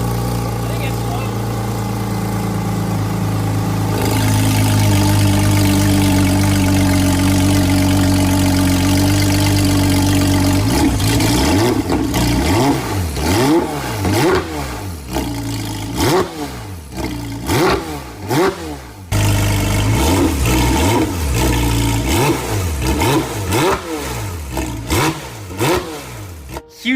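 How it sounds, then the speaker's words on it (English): A restored 2022 Porsche 911 GT3 with an aftermarket Valvetronic exhaust idles with a steady low rumble, then revs repeatedly in sharp rising bursts, loud and close, with brief drops back to idle between throttle blips. "I'm gonna fire this thing up"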